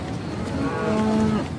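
Cattle in a Himba herd on the dry scrubland of Namibia give a single drawn-out moo, near and clear over a constant background hum.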